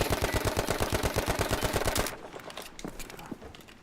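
Rapid automatic gunfire at shooting-lane targets in Battlefield V, a fast even burst of close, loud shots for about two seconds, then stopping abruptly into quieter clicks and faint mechanical handling sounds.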